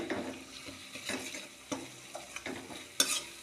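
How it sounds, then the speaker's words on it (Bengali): A chilli and turmeric spice paste is stirred as it sautés in a pan, with faint sizzling under repeated spoon scrapes. A sharper clink comes near the end. "চামচ লঙ্কার গুঁড়ো দিয়ে পরিমাণ মতো হলুদ গুঁড়ো দিয়ে, তো মশলাটা ভালো করে কষিয়ে"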